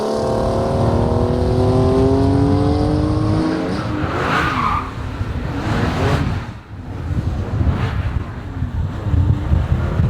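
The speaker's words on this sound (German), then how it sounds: "Akustik des Motors." A Porsche 911 R engine revs loudly, its pitch sweeping up through the gears with rising harmonic whine, then roaring on steadily close to the microphone.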